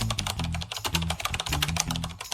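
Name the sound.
typing a prompt on a computer keyboard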